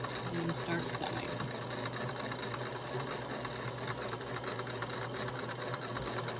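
A sewing machine runs continuously while chain piecing fabric, its fast steady mechanical whir and needle rattle close and even throughout, with a voice talking over it.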